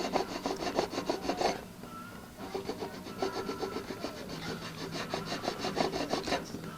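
Steady back-and-forth strokes of a hand file scraping dried glue from the wooden body of a 1964 ES-335 guitar being built, close and rasping, with a short pause before the strokes resume.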